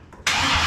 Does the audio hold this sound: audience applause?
no